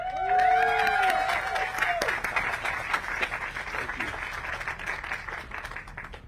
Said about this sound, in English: Please help me give a round of applause and welcome the CEO of Hemisfair, Andres Andujar.